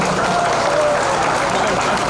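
An audience at a Tripuri Buisu festival applauding, a dense, steady wash of clapping from a large crowd throughout, loud and unbroken.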